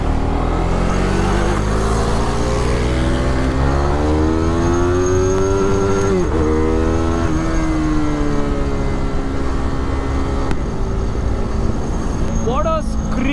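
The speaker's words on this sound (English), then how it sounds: "What a screamer engine this has become." A KTM RC 390 single-cylinder engine fitted with Powertronic and Fuel X revs hard toward 12,000 RPM, its loud buzzy note climbing, dipping sharply and rising again over a steady drone, close up and continuous.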